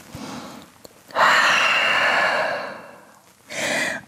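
Close, breathy exhalations in a downward dog yoga pose: a soft short breath, then a long loud sigh-like release, a pause, and another shorter breath.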